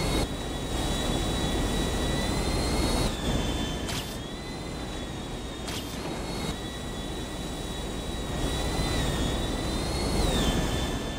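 A loud, continuous jet-engine roar with a high whine rises and falls in pitch while riding on an airplane in modded GTA 5. It is broken by a couple of brief bursts.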